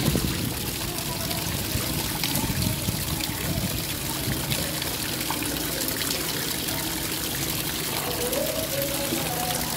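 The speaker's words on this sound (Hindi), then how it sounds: "और पानी की बाल्टी भर रही है।" Water pours steadily into a bucket at a home during a barbecue, a continuous close splashing stream with faint background noise.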